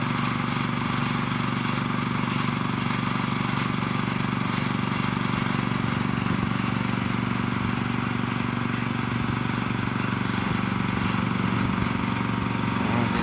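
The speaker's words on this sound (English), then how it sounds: "It's just running off what the compressor is pressing up right now." An air compressor runs steadily on a 1979 Ford tilt bed toy hauler motorhome conversion, a loud continuous mechanical drone with a rattling hum that holds unbroken throughout.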